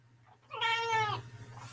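A cat meows once, a clear rising-and-falling cry lasting about half a second, heard fairly close in a quiet indoor room with a low steady hum beneath it.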